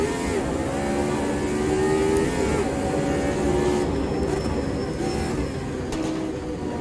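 James Hunt's 1976 McLaren M23 in Automobilista 2 dropping through the gears, a loud sustained engine note with stepped pitch shifts and shift blips as it slows for a right-hand corner.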